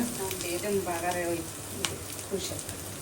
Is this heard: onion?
yes